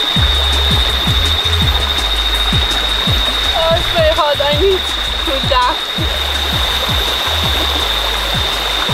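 Steady rushing of river water in Penang, Malaysia fills the scene, with a high insect-like whine above it and a few brief birdlike chirps in the middle.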